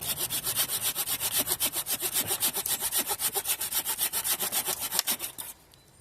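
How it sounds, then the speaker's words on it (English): A bushcraft saw cutting through wood outdoors, steady rhythmic back-and-forth strokes, about four per second, close and loud, stopping abruptly near the end. "Bushcraft saw here."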